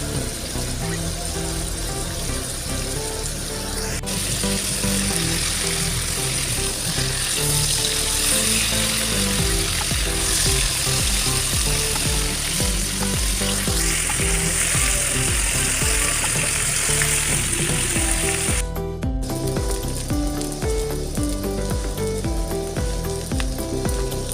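Bottle gourd and potato pieces frying in a generous amount of oil, a loud continuous sizzle holding steady throughout with no talking.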